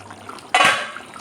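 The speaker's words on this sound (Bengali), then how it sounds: "চিকেনটা সেদ্ধ হওয়ার জন্য আমি অল্প করে গরম জল দিয়ে দিচ্ছি" A short splash of hot water is poured onto chicken in a cooking pot for a spiced curry. It is one quick, bright gush lasting a fraction of a second and then fading, with no talking.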